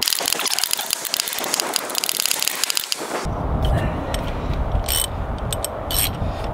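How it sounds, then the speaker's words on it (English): A ratchet wrench with a 14 mm socket snugs the bolts on a manual transmission that is going back into a car in a home garage. Rapid ratchet clicks come up close, then a lower grinding mechanical rumble with sharp clicks, and no one speaks. "we'll get a wrench, a ratchet on that in a moment"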